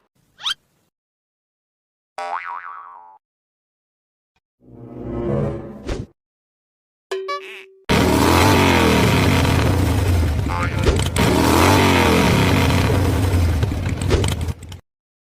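A cartoon vehicle drives off with a steady, loud engine roar that fills the second half. It follows several short bursts of cartoon voices and effects.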